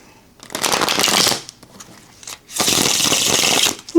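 Tarot cards on 350 GSM art paper cardstock being shuffled in two brisk riffling bursts, each about a second long, close and crisp with a short pause between.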